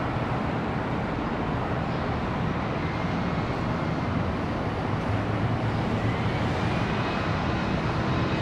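A US Airways special-livery airliner at Charlotte Douglas International Airport produces a continuous broadband engine roar, steady and fairly loud throughout with no talk.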